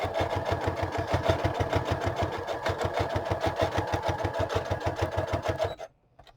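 A sewing machine stitches through a repurposed file folder to form a pocket, its needle hammering in a fast, steady rhythm close by for several seconds before stopping abruptly.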